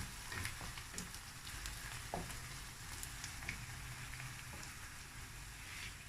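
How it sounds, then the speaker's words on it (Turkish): Onions frying in a pan outdoors, cooked until lightly pink, giving a steady close sizzle with faint crackles and an occasional soft stir throughout, no voices. "soğanımı kavuracağım"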